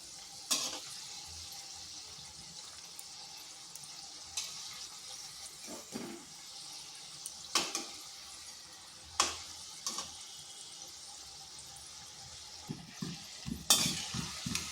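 Pieces of ripe palm mukhshola pitha frying in oil over medium-high heat, a quiet bubbling sizzle punctuated by repeated clinks and scrapes of a stirring utensil.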